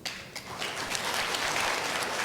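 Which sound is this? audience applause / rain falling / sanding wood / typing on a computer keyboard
audience applause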